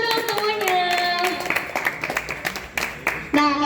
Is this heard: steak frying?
no